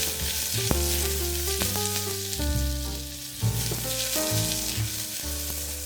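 Sliced onion frying in a pan with a cinnamon stick and peppercorns, a strong continuous sizzle broken by repeated scrapes and clinks of tossing and stirring, close and loud with no voices.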